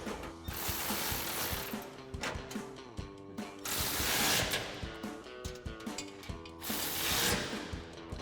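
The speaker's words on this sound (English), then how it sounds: "grab our 10 millimeter socket and ratchet and go ahead and tighten our isolator back down" A 10 mm socket on a ratchet tightens an exhaust isolator under a Ford F-150 EcoBoost, giving rapid rattling pawl clicks in bursts of back-and-forth strokes, close and fairly loud, with no talking.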